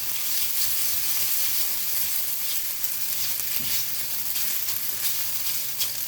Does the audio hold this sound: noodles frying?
yes